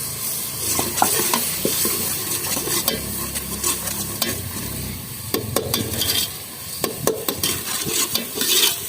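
A steady, crackling sizzle of ginger and garlic frying in hot tempering oil fills the clip, with occasional spoon scrapes and clinks against the pan.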